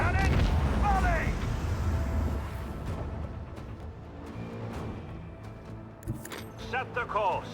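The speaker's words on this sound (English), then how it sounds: "Leave their hulls strewn across the stars! Macro cannons, volley!" Macro cannons fire a volley in a space battle video game: heavy, rumbling booms and blasts that roll on for several seconds, with a commanding voice shouting over them at the start and end.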